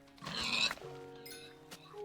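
Cartoonish pig oinks from a video game, a loud burst of squealing grunts followed by shorter tonal game sounds, with no talk over them.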